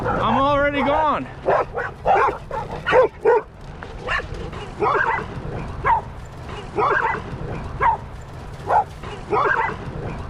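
Yellow Labrador retrievers in a pack bark at a cyclist riding along a frontage road, opening with a whiny yelp, then repeated sharp barks in uneven bursts at moderate distance.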